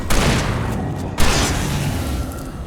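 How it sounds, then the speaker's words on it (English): Shotgun blasts in the horror action game Alan Wake Remastered, two heavy booming shots roughly a second apart, loud and close over a dense rumbling game soundscape. "Oh, no, shotgun."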